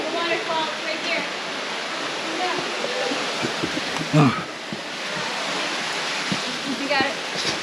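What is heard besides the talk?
waterfall rushing water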